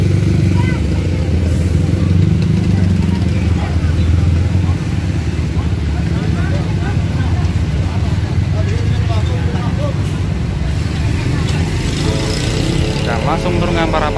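A Bagong intercity bus rumbles into a crowded station in Serang, its engine a loud, continuous low drone throughout, with bystanders talking over it.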